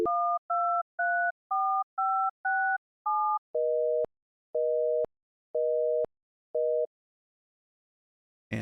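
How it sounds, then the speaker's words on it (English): In-game telephone in an Unreal Engine 5 phone system: a rapid run of short dialing tones, then a steady on-off busy signal of four evenly spaced beeps after a wrong number is dialed, clean and alone before silence. "you could hear that we got our busy signal for the wrong number"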